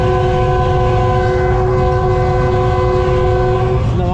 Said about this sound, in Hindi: दोस्तों ये ट्रेन हमारी एंटर हो चुकी है